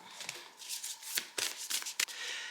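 Tarot cards slide and flick against one another as they are drawn from a deck, soft close papery rustles with a few sharper snaps, quiet and without talk.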